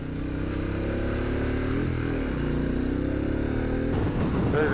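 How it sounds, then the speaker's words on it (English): Several motorcycles roll past a roadside checkpoint in Mexico, a steady, loud blend of engine drones with shifting pitch, ending in a nearer, rougher surge of exhaust. "We got a motorcycle group."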